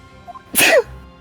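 A single sharp sneeze, close and loud, bursting out briefly against a quiet background.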